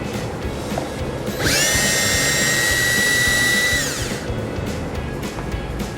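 A power tool with an 8mm socket removing bumper fascia screws on a 2014 Ford Escape, a high whining whir that runs for about three seconds, then winds down, close and loud over a steady background hum.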